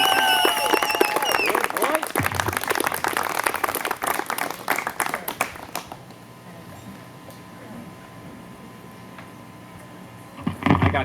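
A graduation audience claps loudly for roughly five seconds before the applause thins into scattered claps and quiet room noise, with a brief burst near the end.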